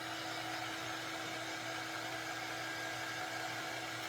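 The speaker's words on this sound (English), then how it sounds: "let's hit that with the dryer" A hair dryer blows steadily and loudly at close range, drying paint on a handmade scarecrow craft, a continuous broadband whoosh with a low motor hum beneath, unbroken throughout with no talking.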